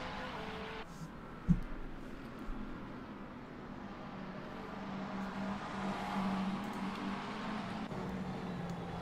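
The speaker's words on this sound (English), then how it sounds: "Got a battle here between Wesley Darport and Brasler for 9th position. Two McLarens." Two McLaren GT race cars battle for ninth place at the Nürburgring GP circuit in a sim racing game, a steady engine roar running throughout with one brief knock near the start, no talking heard.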